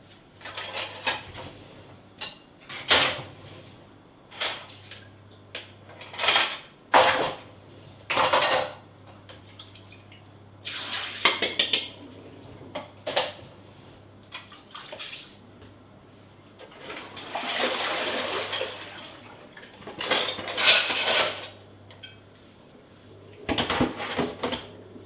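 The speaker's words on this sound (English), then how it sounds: "Somebody's left all these dishes in the sink." Dishes and cutlery are washed in a kitchen sink, with intermittent clatters of plates and utensils and bursts of running water at irregular intervals over a steady low hum, with no talking.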